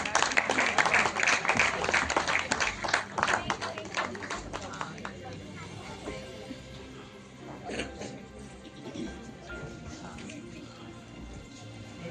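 Applause for a visiting poet rises at an annual poetry festival hall, brisk and crowded for several seconds before thinning into scattered claps, with voices carrying on underneath.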